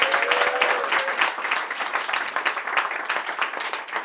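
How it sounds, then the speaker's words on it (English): A comedy club crowd applauds the evening's host, a steady patter of many hands clapping with a few stray tones early on, moderately loud and continuous for about four seconds. "Can you please give a round of applause to your host for this evening"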